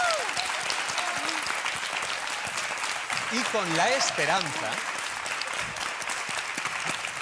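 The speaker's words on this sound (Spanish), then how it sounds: "que es con un fuerte aplauso, por favor." Strong, sustained applause from a television studio audience fills the whole stretch, steady and dense, while a presenter speaks over it in Spanish.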